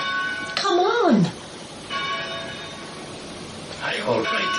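A chapel bell rings at a distance, steady metallic tones sounding faintly beneath voices, with a muffled, roomy quality.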